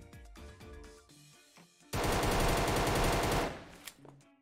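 Loud, sustained automatic gunfire rattles in a steady stream for about a second and a half in a video game minigame, framed by quieter game sounds.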